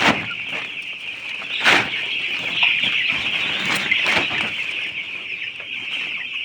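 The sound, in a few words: chickens clucking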